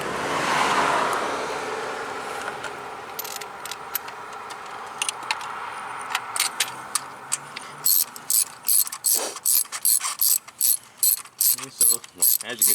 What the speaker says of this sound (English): putting plugs in and the ratchet starts to lock up as soon as you start tightening